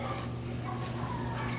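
Dogs whimper and give short yips in a home kitchen where a cast iron tater tot casserole is being made; quiet and somewhat distant, without speech.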